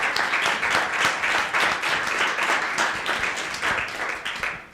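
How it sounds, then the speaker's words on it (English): A crowd claps steadily throughout, a dense wash of applause that fades slightly toward the end. "Let's give a round of applause for our panelists."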